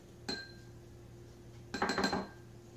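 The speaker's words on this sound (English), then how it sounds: "you're going to scoop out the avo into a little bowl" Avocado being scooped into a small bowl: a brief clink of utensil against dish, a pause, then a short cluster of scraping clatter, close and quiet with no talking.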